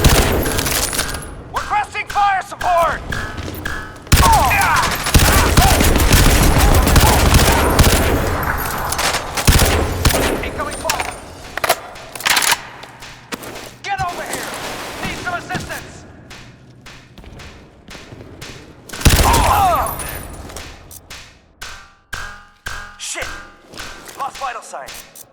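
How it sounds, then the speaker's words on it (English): Heavy automatic gunfire and explosive thuds fill a Crysis 2 battle, dense bursts swelling and fading with sharp isolated shots between, while soldiers' voices call out over the fighting. "Heavy fire! Requesting fire support!"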